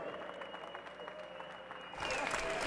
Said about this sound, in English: come on, one more round of applause for these warriors